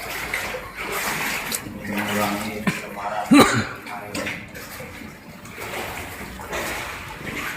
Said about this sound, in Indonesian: itu bunyi aliran air atau semacam kayak air terjun kecil.